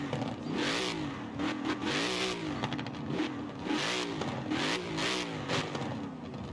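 A Ford Mustang GT V8 revs and accelerates repeatedly, loud and close, with rising and falling engine pitch in several surging pulls and no talking.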